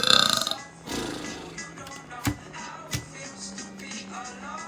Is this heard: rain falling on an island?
no